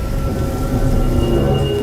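Steady rain pours down in a dense, even patter, loud and close, heard from a sheltered spot with no one talking.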